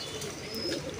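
A Pakistani pigeon gives a short soft coo, close and alone against light background noise.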